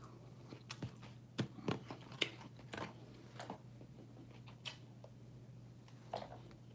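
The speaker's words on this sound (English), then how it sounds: "I'm trying to get better with my chewing" Someone chewing food close to the mic, with soft irregular bites and smacks over a quiet steady hum.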